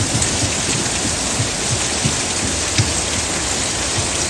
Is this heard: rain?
yes